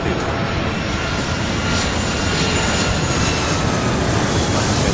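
Jet airliner engines roar steadily through a takeoff roll on the runway in the Airport Madness 3 air-traffic game, a loud broadband rumble with a thin whine, continuous and unbroken, with no voices over it.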